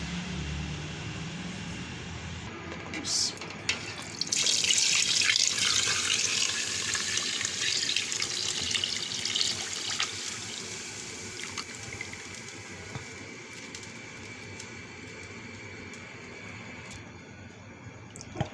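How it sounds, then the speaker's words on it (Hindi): Milk pours steadily into a pot for kheer, a continuous splashing, gushing stream that swells after a few seconds and then runs on with an even rush, close by, with no talking. "असी 3 किलो दूध डालने जा रहे हैं।"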